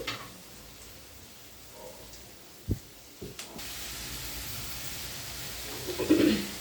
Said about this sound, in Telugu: ఆనియన్స్ ఫ్రై అయిన తర్వాత కరివేపాకు వేస్తున్నాను కొంచెంసేపు ఫ్రై అవ్వాలి